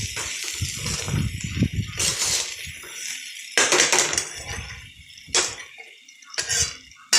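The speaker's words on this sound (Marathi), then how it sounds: "आता हे पूर्ण आपण हलवून घेऊया" Guar beans in green chili masala stirred with a spoon in a metal pan: clattering scrapes and clinks come in bursts, interleaved with soft sizzling, close and fairly loud.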